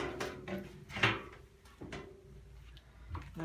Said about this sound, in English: Fascia lifts off with the door.